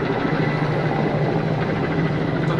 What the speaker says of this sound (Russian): Получается, вертолет, видите, вот там он опускается, на море набирает воду,